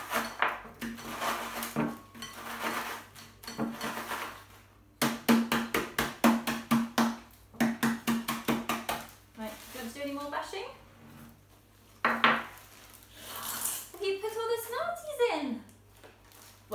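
A spoon stirs a mixture in a bowl, clinking and scraping in quick repeated strokes that come in bursts with pauses. Voices talk over parts of it.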